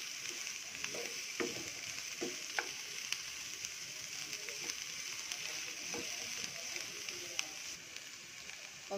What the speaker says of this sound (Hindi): उसको भी एक बार फ्राई कर लेंगे